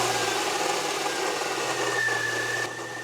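A car engine bought at auction runs with a bad bottom-end knock, a steady close mechanical drone with a faint whine that drops in level near the end.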